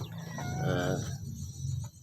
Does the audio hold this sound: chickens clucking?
yes